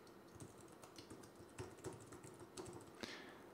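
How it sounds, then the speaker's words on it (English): Quiet, irregular clicking of a computer keyboard as an email address is typed, soft key taps in uneven bursts up close with no talk. "I'm going to go ahead and type my PayPal email address in."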